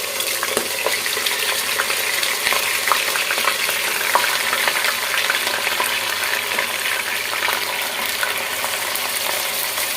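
Large pieces of meat fry in hot oil, producing a constant, close crackling sizzle with scattered sharp pops and faint stirring clatter, without any speech.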